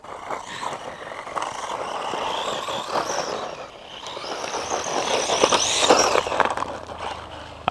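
A vehicle races at top speed across rough, rocky ground with a loud, continuous rattling and whirring drive that builds, dips briefly and then surges again before a sharp knock at the end.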